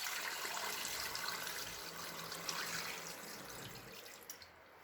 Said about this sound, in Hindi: 4 गिलास पानी डालेंगे